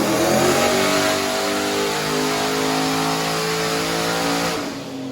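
A built 370 cubic-inch LS V8 roars loud and sustained on a dyno pull, its droning engine note holding high throughout before tapering off at the very end.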